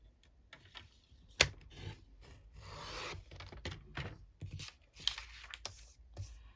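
Scissors cutting paper for a vintage tag, soft close rasping and rubbing strokes with a couple of sharp clicks in an uneven rhythm, faint and without talk.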